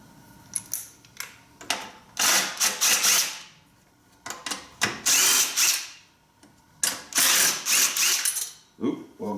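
A power driver runs in several loud, whirring bursts, broken by pauses and clicks, as it backs an 8 mm bolt out of a lawn mower while the gas tank is being removed.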